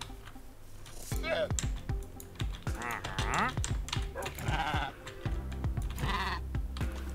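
Minecraft sheep bleat repeatedly in short, quavering calls, loud and close, mixed with rapid keyboard clicking and a person talking.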